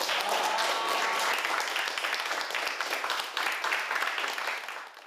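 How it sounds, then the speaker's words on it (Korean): A group of children claps together to close a classroom session on making considerate tools, a dense, steady patter of many small hands that carries on throughout and tapers off at the very end. "수고한 우리 모두를 위해서 박수 치며 마무리하겠습니다."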